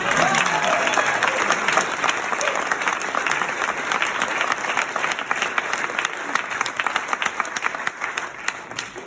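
A large audience of a few hundred claps steadily and loudly for a woman guest, a dense sustained roar of applause that carries on throughout with crowd murmur beneath.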